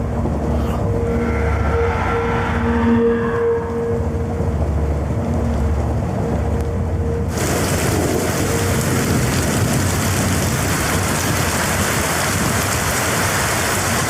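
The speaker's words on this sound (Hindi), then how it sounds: "बारिश बहुत तेज है" Heavy rain roars steadily throughout, with a low rumbling undertone; partway through the downpour surges louder and denser, close and continuous.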